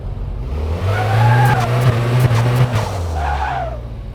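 Turbocharged sports car engine in the video game Car Mechanic Simulator, loud and close, a sustained revving drone that swells, holds, dips and rises again with a faint turbo whistle on top, no talking.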